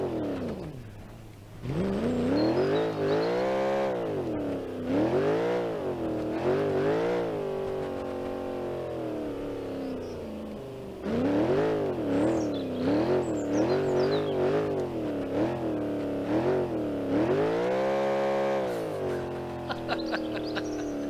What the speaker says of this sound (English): Blasting around in a go-kart with racing slicks in the snow.